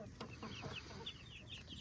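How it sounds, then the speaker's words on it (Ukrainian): Young Leghorn chickens, roosters and hens together, cluck softly in a repeated series of short calls, faint and somewhat distant. "Ну, сім півників і шість курочок."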